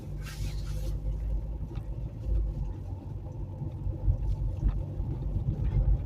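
Steady low engine rumble and road noise from inside a moving car, continuous and fairly loud throughout with no talking.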